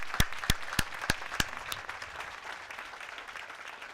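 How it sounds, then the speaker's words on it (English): An audience bursts into applause at a housing community event, a few sharp claps leading into a short round of clapping that tapers off, with faint voices underneath. "So Chris and Lily, if you could just stand and take a round of applause."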